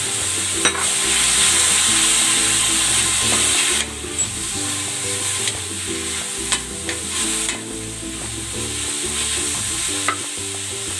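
Pork liver fries for lomi in a hot pan, giving a loud, close, continuous sizzle with intermittent stirring clicks and a sharper hiss in the first seconds.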